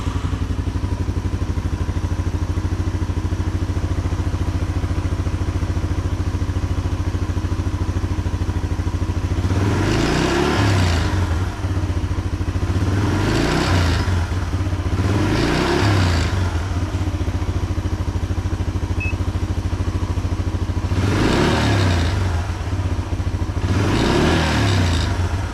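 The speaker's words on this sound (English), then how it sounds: "As you rev it up, the voltage is going down." A 1983 Yamaha Tri-Moto YTM200 three-wheeler idles steadily and close by, then is revved in five short, loud bursts, three close together and two later, each settling back to idle.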